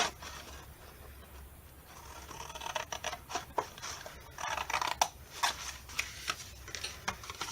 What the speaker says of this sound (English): you're going to trim off and get rid of this whole square right here